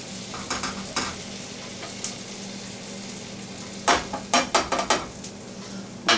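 A butter and flour roux is stirred in a pan, a soft sizzle underneath steady scraping strokes, then a run of sharper, louder utensil scrapes and taps near the end.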